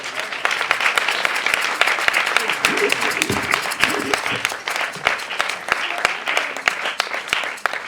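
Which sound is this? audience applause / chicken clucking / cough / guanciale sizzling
audience applause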